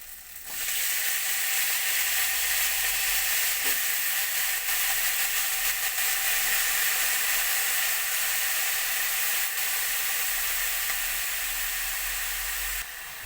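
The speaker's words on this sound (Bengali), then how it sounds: "আলুর সঙ্গে বাঁধাকপিটাকেও আমি ভেজে নেব" Potatoes and cabbage frying in a pan, a steady loud sizzle with hissing steam that runs evenly for the whole stretch with only faint clinks, no talking.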